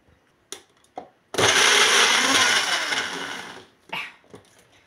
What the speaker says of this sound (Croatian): i sad ćemo mi to u našem blenderu da lepo izblendiramo